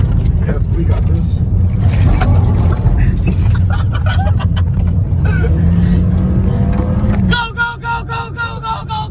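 A 2011 Toyota Corolla rally car on the streets roars steadily at full throttle, loud and close, with the engine note climbing before it cuts off near the end. People shout and talk over the engine.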